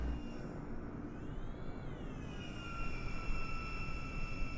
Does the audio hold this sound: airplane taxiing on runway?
yes